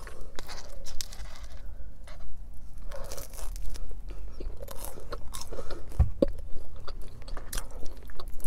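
Crusty baguette dipped in Panera mac and cheese is chewed close to the mic, with soft crunches, bites and wet mouth sounds in an uneven rhythm.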